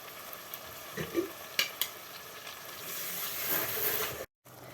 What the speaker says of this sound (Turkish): Onu da suyunu koymak için ekliyorum içerisine. Biber salçası da girmiş olsun.